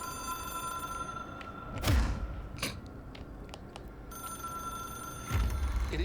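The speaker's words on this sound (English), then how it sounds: "It is a phone." An old-style telephone bell rings in the Control video game, a sustained metallic trill that sounds in two bursts, each opening with a heavy thump, above a low background hum.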